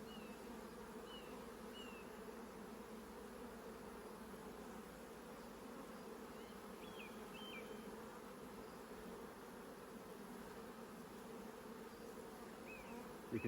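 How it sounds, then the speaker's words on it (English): Honey bees buzz steadily and densely around an open hive during a transfer from a nuc, a continuous low drone filling the air at moderate volume with occasional nearby fly-bys. "You can see all the bees there kind of,"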